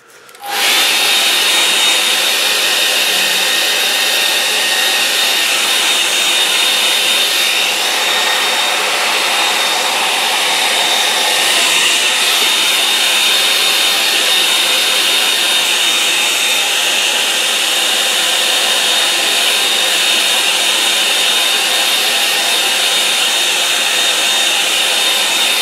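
A hair dryer drying a wet watercolour painting runs loud and close, starting abruptly and then holding a constant high-pitched whirring blast of air with a steady whine, continuous throughout and with no voices.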